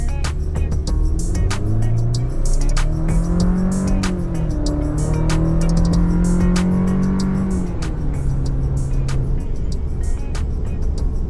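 A Chevy Silverado HD ZR2 Bison pickup grinds steadily through deep sand in Johnson Valley, its engine droning loud and close with rising and falling harmonics as it pulls under load, no talk over it.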